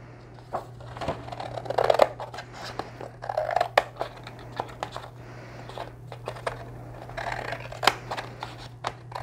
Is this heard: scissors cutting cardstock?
yes